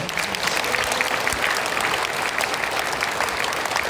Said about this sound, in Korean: 여러분 감사의 박수를 보내주시면